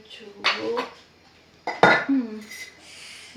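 Clinks and knocks from handling a salt jar among pots and cutlery while cooking vegetable biryani on a home stove, two sharp clattering bursts close by with quieter kitchen handling between them.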